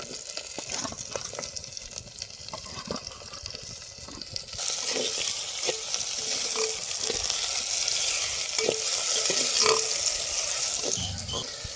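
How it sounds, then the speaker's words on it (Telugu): Chopped onions and green chillies fry steadily in a hot pan for a peanut and potato kurma, a close continuous sizzle that swells louder about halfway through, with a few light stirring knocks. "మనం నీట్గా తరిగి పెట్టుకున్న ఎర్రగడ్డలు వేసుకుందాం."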